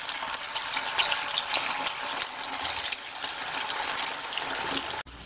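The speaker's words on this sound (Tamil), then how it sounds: "இப்ப வச்சிருக்கிற காலிஃபிளவரை எடுத்து இப்ப நம்ம இதுல ஃப்ரை பண்ண போறோம்" Cauliflower pieces deep-frying in hot oil for Gobi Manchurian: a loud, continuous hiss and crackle of bubbling oil, steady throughout, with a brief cutoff just before the end and no voices.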